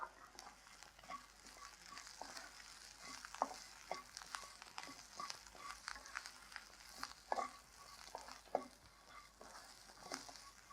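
Vallarai greens tossed with shallots and grated coconut in a hot pan for thuvayal, giving a steady close sizzle with repeated stirring scrapes and clicks throughout, no voices.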